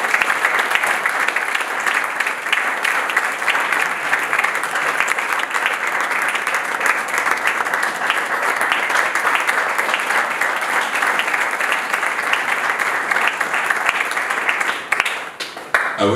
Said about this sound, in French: Un livre d'Alcise Lisson que je vous invite à applaudir avec beaucoup de joie.